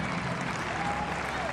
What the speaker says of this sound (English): we can hear the applause around the stadium